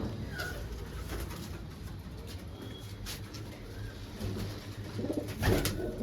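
Pigeons coo softly in a coop fitted with new nesting baskets. A few low calls sound faint and somewhat distant over steady background noise.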